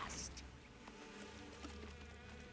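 Bees buzzing in the video game Metal Gear Solid 3, a faint insect drone under quiet game sounds, with soft voices in the background.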